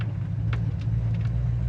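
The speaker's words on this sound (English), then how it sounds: "It's got a great idle. It's idling about 800 RPM, which is perfect." A 1967 Pontiac Firebird engine idles at about 800 RPM, a steady low rumble held close and even, with a few faint higher noises over it.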